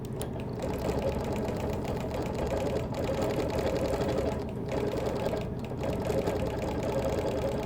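A sewing machine quilts through the thick layers of a Baltimore album quilt with a close, rapid and steady stitching chatter, broken by a few brief pauses.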